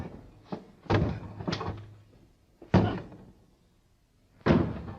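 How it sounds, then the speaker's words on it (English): A door in the 1965 Doctor Who serial The Rescue is broken through with a metal strut: several heavy, irregularly spaced thuds and bangs with gaps between them, fairly close and loud. "So the Doctor just takes a metal strut and breaks his way through the door"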